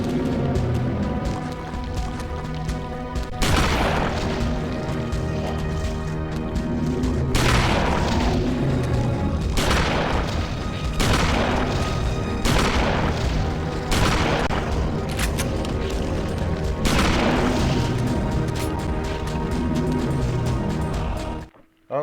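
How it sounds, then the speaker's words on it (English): Shotgun blasts in the video game Eternal Darkness: Sanity's Requiem, a series of heavy booming shots at roughly two-second intervals over a dense, sustained game soundtrack. "shotgun already"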